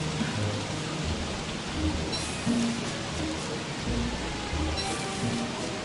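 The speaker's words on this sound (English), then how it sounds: "Boy, it just rains like crap anymore." Steady rain falls in the survival video game Don't Starve, a dense, even hiss of downpour with scattered patter, continuous and moderately loud with no talking.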